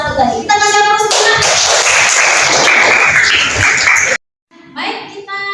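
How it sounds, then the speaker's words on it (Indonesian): A classroom of students applauds group 1 with dense, loud group clapping lasting a few seconds, and voices talk just before and after it. "Oke, terima kasih dari kelompok 1 tadi. Kita kasih aplaus dulu."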